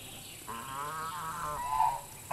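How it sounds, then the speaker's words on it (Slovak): Farm waterfowl give a drawn-out nasal honking call that wavers and then fades, close and clear against quiet ambient noise. "No, tam sú kačičky, že? Kačičky."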